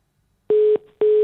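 A telephone tone from a call that is not connecting: two loud, sustained electronic beeps of equal pitch separated by a short gap, heard alone after a moment of silence.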